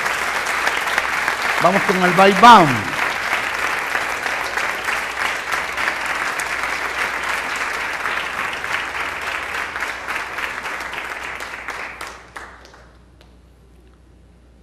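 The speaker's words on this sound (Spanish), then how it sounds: "Por lo menos denle un aplauso al Señor" A church congregation claps steadily for about twelve seconds, a broad even wash of hands that fades out near the end; someone speaks briefly over the opening.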